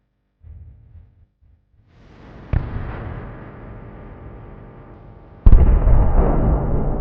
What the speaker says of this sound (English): The explosion caused significant damage, but one more hit was needed to finish the job.